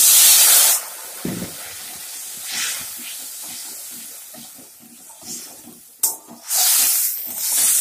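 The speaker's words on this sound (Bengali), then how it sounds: "জল দিয়ে দিচ্ছে।" Water is poured into a hot pan of rohu fish curry, giving a loud hiss and sizzle at the start and again near the end, with a softer steady sizzle and bubbling in between.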